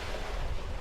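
Sea waves splashing against the legs of someone standing in the ocean, a steady rushing wash with wind noise, close and fairly loud.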